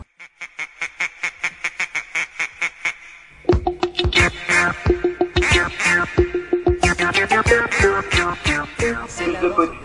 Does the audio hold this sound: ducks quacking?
yes